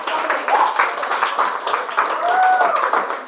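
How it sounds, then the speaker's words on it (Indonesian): A school class claps together in a classroom, a loud, rough burst of many hands with excited voices and shouts mixed in throughout. "Kasih tepuk tangan baik kelas ini"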